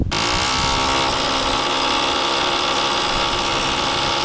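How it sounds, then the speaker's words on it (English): A loud, rapid mechanical hammering from a mini jackhammer, used while installing tie rods on an Acura RSX, kicks in abruptly and runs continuously, harsh and buzzing up close. "what I do have is a mini jackhammer"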